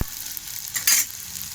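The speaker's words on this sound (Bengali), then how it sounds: "লাল করে ভাজবো আলুটা" Small diced potato pieces dropped into hot oil to fry, a sharp burst of sizzling that swells briefly and then settles into a quieter fizz over a short moment.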